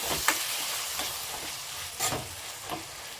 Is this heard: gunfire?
no